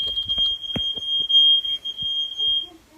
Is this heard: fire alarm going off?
yes